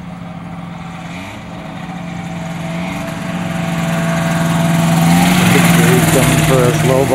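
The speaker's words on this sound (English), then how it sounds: "here goes Jerry taking off again." A Kitfox light airplane on skis takes off from snow, its engine droning and swelling steadily louder as it gains power, close by and alone.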